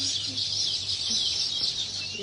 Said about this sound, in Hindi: बहुत ज्यादा चहचहाने की आवाज आ रही है